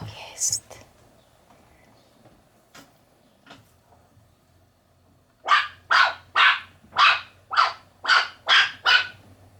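A Yorkshire terrier gives a quick run of about eight sharp, high barks in steady rhythm, close and loud, after a few seconds of quiet with faint clicks and brief rustles.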